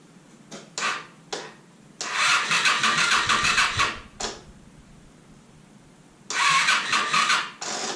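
A Honda Spada motorcycle engine cranking but failing to start, several bursts of starter churning, short at first and then longer, separated by pauses, close and fairly loud with no talking.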